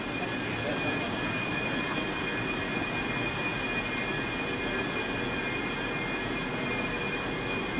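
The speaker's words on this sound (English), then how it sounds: "Okay, so this is our train." A passenger train in Scotland rumbles steadily during the ride, a constant low roar of wheels and carriage noise with a thin high whine running through it, unbroken for the whole stretch.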